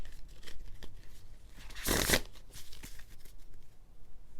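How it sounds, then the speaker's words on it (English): A deck of tarot-style reading cards is riffled once in a loud, close burst of rapid flutter, then soft handling and light card taps follow. "I'm getting called to do a shuffle"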